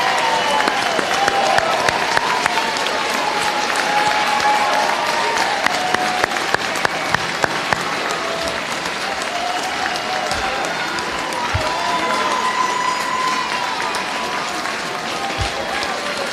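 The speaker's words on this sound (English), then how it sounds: "Please join me in a round of applause to celebrate the Westmont Junior High School class of" Sustained applause fills a junior high school graduation ceremony. A dense, even wash of many hands clapping carries on steadily for the whole stretch, with scattered louder claps.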